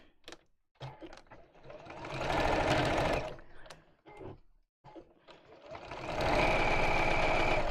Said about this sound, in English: I'm just going to sew around the top.